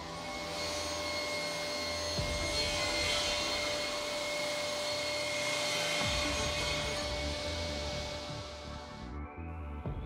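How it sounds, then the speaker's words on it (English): A Felder Hammer C3 31 combination woodworking machine cuts the edge of a clamped board, a steady loud whine of the blade in wood with slight shifts in pitch, then winding down near the end. "Now clamp the board under the edging shoe, which ensures that this cut is also performed without a hitch."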